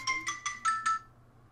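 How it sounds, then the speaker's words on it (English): Incoming phone call ringtone playing five quick bright electronic pulses in a steady rhythm, close and clear, then falling silent after about a second. "I started getting a phone call."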